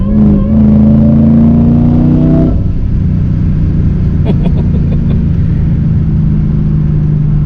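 Supercharged Mercedes CL55 AMG making 630 wheel horsepower, engine and exhaust roaring loud and close as it accelerates with rising pitch, then shifting into a deep lower rumble with a few sharp crackles.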